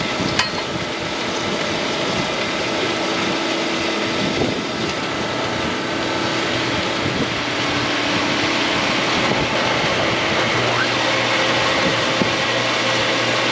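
A center pivot irrigation system runs with a steady, loud rush of water and machinery noise that holds constant throughout.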